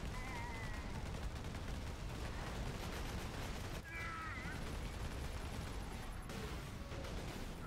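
Machine gunfire in the Space Marine video game during a multiplayer match forms a dense, continuous rattle of rapid shots, fairly faint and unbroken across the whole stretch.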